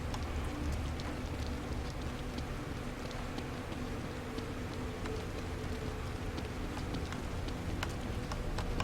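Steady rain pours throughout a scene in the video game The Evil Within, a dense, even hiss with scattered drop ticks and a low rumble underneath, continuous and fairly loud with no voices.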